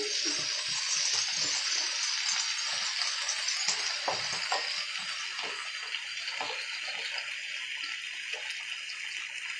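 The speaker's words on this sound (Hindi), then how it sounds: "देन इसे हमें अच्छे से सॉटेड कर लेना है।" Food sautéing in a pan in a home kitchen gives a steady, fairly loud sizzle that hisses evenly the whole way through, with no talking.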